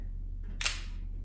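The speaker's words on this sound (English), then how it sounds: "You press your shutter button to" A single camera shutter click as the button is pressed with the camera in bulb mode: one short, sharp snap near the mic, standing alone over low background hum.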